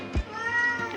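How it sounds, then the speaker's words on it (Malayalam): A single cat meows clearly and close by, a short drawn-out cry over a steady background hum, with a faint second call at the end. "പൂച്ച ഇങ്ങനെ കരയുന്നുണ്ട്"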